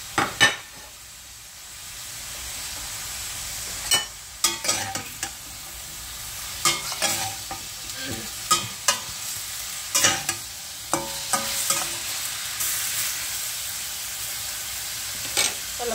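Pork and onions frying in a pan, a steady close sizzle punctuated by frequent sharp clacks and scrapes of a utensil stirring against the pan, with no talking.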